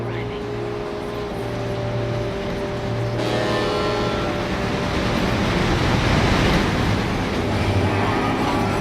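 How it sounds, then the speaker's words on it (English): A train pulls into a station in Lightning Returns: Final Fantasy XIII, with a rising rumble of wheels and rails that swells toward the end over steady low engine hum and tonal station sounds. "train is now arriving"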